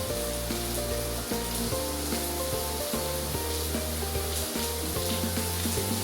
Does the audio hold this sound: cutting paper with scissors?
no